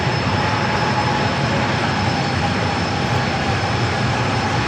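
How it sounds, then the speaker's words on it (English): An American Airlines Boeing 737-800 bound for Chicago O'Hare takes off at San Diego airport, its jet engines a loud, continuous, broadband roar that holds steady throughout without voices. "The 737-800 with American heading to Chicago O'Hare up next for takeoff."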